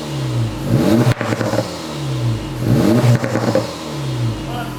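A 2024 Civic Type R or Integra Type S is revved hard twice to about 3,000 rpm through its exhaust, each rev a loud, close rising roar that falls back to a rumbling idle.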